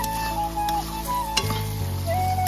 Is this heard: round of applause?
no